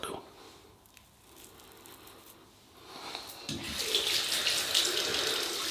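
Tap water runs into a sink to warm a 1966 Gillette Superspeed double-edge razor, a faint trickle that swells into a steady, louder gushing stream.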